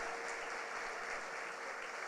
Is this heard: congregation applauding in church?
yes